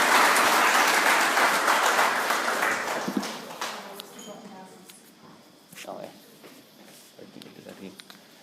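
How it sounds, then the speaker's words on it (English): Audience applause at a public school's end-of-year presentation day, honouring sports award winners: loud, dense clapping that gradually thins and fades over several seconds, leaving scattered claps. "Can we give these guys a clap, please?"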